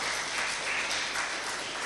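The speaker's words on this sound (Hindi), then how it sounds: "आप तो ताली बजाओ।" Steady, dense audience clapping at a spiritual discourse by Pandit Vijay Shankar Mehta, a continuous wash of many hands at even loudness with no voices over it.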